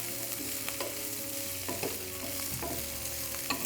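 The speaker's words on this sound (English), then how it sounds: "So my broccoli is going to go in next, along with my green French beans." Chopped broccoli and green French beans fry in a pan with a soft, steady sizzle, interrupted by occasional scrapes and clatters as they are stirred, close and fairly quiet, with no speech.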